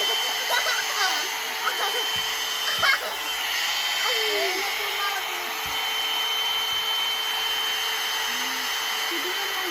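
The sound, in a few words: one-step hair dryer and styler blowing on low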